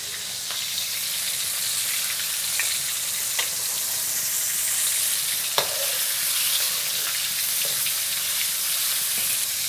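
Steady loud sizzling of crab frying in hot oil, a constant crackling hiss with occasional sharper pops close by.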